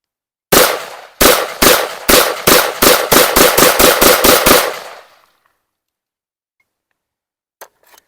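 A rapid burst of about a dozen loud, sharp shots from a home-built AR rifle emptying its magazine at targets, the reports coming quicker toward the end before a short ringing tail and silence, with faint clicks afterward.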